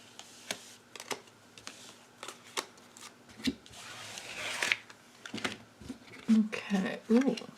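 Playing cards laid down one by one onto a table during a card reading, a series of short soft slaps and slides at an uneven pace, close by, with faint background hum.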